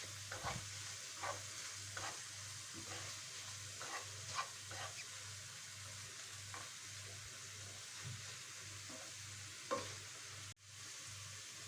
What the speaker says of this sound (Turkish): Kıymayı 3-4 dakika daha kavurdum.